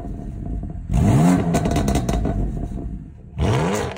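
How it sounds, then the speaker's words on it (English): BMW M2 fitted with an aftermarket FI exhaust system revs hard twice, close and loud, each burst rising sharply in pitch before dropping back to a rumbling idle. No one speaks. "you guys can listen to those excellent exhaust notes"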